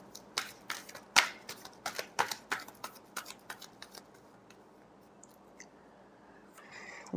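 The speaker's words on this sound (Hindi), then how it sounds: "Last shuffle." Tarot cards are shuffled by hand in a rapid run of crisp flicks and riffles, close and clear, slowing into a few scattered taps before a brief rustle at the end.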